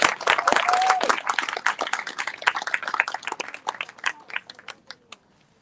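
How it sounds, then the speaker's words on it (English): Audience applause at a district State of the District event, a loud burst of clapping from a crowd that thins out and fades to scattered claps and silence. "Let's give them a round of applause."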